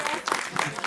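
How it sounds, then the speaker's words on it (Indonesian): An audience at the Ideafest 2024 event applauds with a thick wash of clapping, while a voice carries faintly over the crowd noise. "Tepuk tangan boleh, luar biasa."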